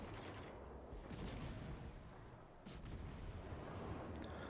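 Naval gunfire rumbles from a World of Warships battle involving a Worcester light cruiser and battleships, with continuous low booms and distant salvos layered over one another at a faint, muffled level and no voices.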